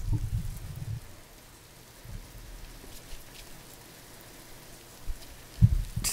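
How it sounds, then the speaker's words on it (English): Rain pours down steadily outside, a soft continuous hiss with occasional low thumps and bumps nearby. "it's starting to downpour out."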